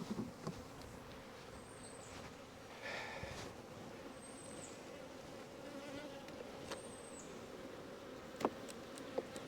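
Honey bees hum in a crowded hive stacked with three honey supers during a honey harvest, a faint, steady drone throughout with occasional soft knocks and clicks of frames being handled.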